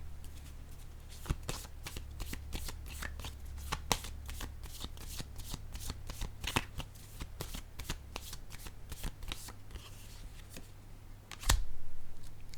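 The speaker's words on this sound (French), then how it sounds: "Je vais déposer une autre carte sur le couple." Tarot cards shuffled and laid down on a table, a steady run of soft riffling flicks and slaps close by, ending with a louder card placed down near the end, with no talking.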